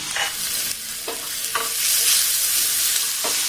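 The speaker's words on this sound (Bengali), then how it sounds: "আবারও দেখুন একটু আমি এইভাবে নাড়াচাড়া করে নিচ্ছি আলুটাকে দেখুন একটু কিন্তু আমি ভাজা ভাজা করে নিয়েছি" Potatoes sizzling in a hot pan while being stirred, a steady bright fry with several distinct scraping strokes of the spoon at irregular intervals, close and clear with no talking.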